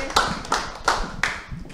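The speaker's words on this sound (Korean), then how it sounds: "박수를 쳐주려면 확실하게 쳐주세요" Hands clapping at a meeting, a handful of separate loud, crisp claps spaced in a steady rhythm, close by with a quiet background.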